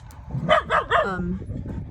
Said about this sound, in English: my dogs are excited, though, because they see a dog